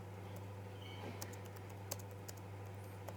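Typing on a computer keyboard while writing HTML code, a sparse run of light key clicks over a low steady hum, close and quiet.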